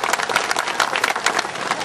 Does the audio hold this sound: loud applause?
yes